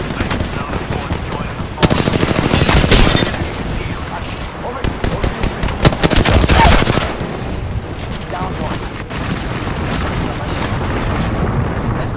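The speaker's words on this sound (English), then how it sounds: "Taking fire!" Rapid automatic gunfire erupts in Apex Legends, loud sustained bursts with sharp shots and booms layered over game ambience, easing briefly before more firing.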